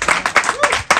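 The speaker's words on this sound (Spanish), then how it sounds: "Un aplauso para los cumpleañeros." Short burst of scattered hand clapping from a small group at a birthday party, uneven claps close by with a voice sounding through them.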